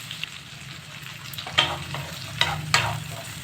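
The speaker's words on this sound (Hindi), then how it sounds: "आराम से रख के हल्का सा भूना," Onion lightly frying in oil for a mixed vegetable sabzi gives a soft, steady crackle and sizzle, with three sharper spatter bursts from stirring near the end.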